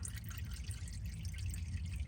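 Engine oil drips and trickles steadily out of a 2010–2015 Toyota Prius during a driveway oil change, a soft continuous liquid patter with no talking.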